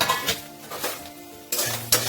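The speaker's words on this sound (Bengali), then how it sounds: "একটু ভেজে নিতে হবে।" Garlic, cashews and green chili fry and stir in a pan with a soft sizzle, and utensils scrape and clink against the metal in short bursts.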